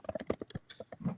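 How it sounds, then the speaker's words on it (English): Rapid clattering keystrokes, a quick burst of typing on a keyboard, close and faint. "are you beating your fucking keyboard over there or what?"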